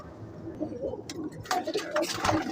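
Flying pigeons, golden, teddy and golden-crest pairs, coo softly and repeatedly at close range over a low murmur of background noise.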